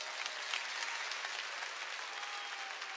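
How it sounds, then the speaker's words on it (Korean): During a Wednesday worship service at a church, the congregation bursts into applause, a full, even roar of clapping throughout. "깨달은 사람만 박수치라고."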